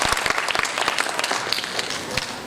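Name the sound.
audience applause for Bharat at a seminar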